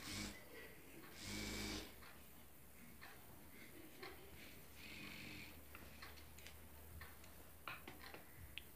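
A sewing machine stitches a Patiala salwar, folding both parts and running seams along the top, with a steady mechanical whir and ticking held at a fairly quiet level, and a louder burst near the start.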